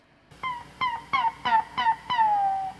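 An electric guitar's third string slides up and down near the neck pickup in six quick, chirping glides, imitating a bird's call, with the last note drawn out longer.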